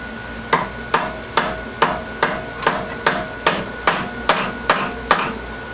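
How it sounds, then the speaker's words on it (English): A copper hammer strikes metal on a hydraulic pump in a steady rhythm, about a dozen sharp ringing blows evenly spaced, loud and close with no talking. "We'll go to the copper hammer."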